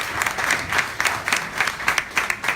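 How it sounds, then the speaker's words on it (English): At a Stop Brexit rally, a crowd claps in a steady, rhythmic wave, the pulses of many hands close and fairly loud. "Give yourselves a round of applause."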